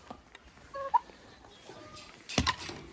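Turkeys in a henhouse make soft, scattered clucks while pecking at ice, with a brief louder scuffle toward the end over a quiet background.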